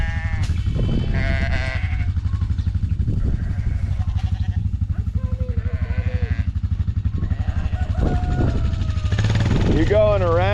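Sheep bleat several times on a farm during a morning chore of feeding hay, close and fairly loud, mixed with a person talking and a low engine-like rumble underneath.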